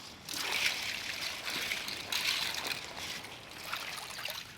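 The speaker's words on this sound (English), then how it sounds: "plunge it straight into lots of chilled ice water" Steady splashing and trickling water, a continuous watery wash with small surges as a cooked lobster is plunged into chilled ice water.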